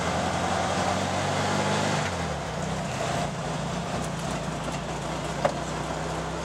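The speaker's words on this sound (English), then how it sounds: "Kind of like driving around in the snow in a Volkswagen." A Volkswagen van drives through snow at night, its engine a steady low drone with a gear or pitch change partway through, accompanied by road and cabin rumble, no one talking.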